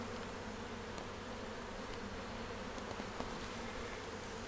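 Honeybees buzz at a hive at a conservation area, a dense steady hum of many insects close by, with no voices.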